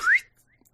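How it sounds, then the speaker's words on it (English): A single short rising whistle from a person, faint and brief, followed by near silence. "we know you can whistle"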